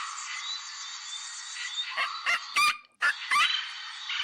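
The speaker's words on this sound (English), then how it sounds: "Parrot." A parrot call in a children's bird-sounds game: a run of sharp, bright squawks, the last few loudest, over a steady background tone.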